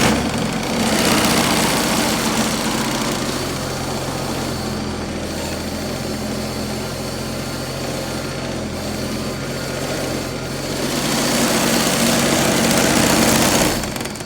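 A John Deere 322 lawn tractor engine starts and settles into a steady, loud idle, a continuous near drone with a slight rise toward the end and no talking.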